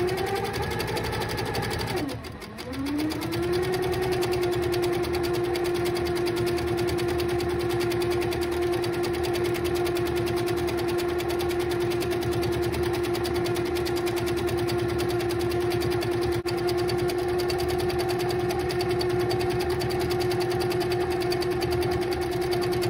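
A sewing machine stitching out cursive letters, running continuously with a steady close mechanical drone and whine that dips briefly near the start, then holds even and loud to the end.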